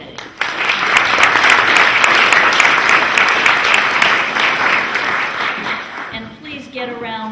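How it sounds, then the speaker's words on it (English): Sustained audience applause at a community TV show event honoring participating organizations, loud and steady for about six seconds before fading, with voices emerging as it dies down. "let's give one more round of applause for all the wonderful organizations we have with us and participating"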